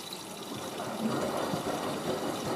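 Water running into a washing machine drum during the final rinse cycle, a soft continuous trickling and rushing flow that holds steady and faint, with no voices.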